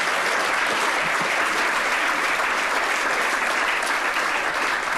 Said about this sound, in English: So let's give the women a round of applause.